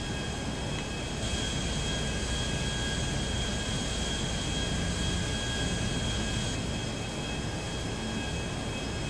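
Airplane in the video game GTA V, a steady whooshing jet-engine roar with a high tonal whine, held at an even level throughout without speech.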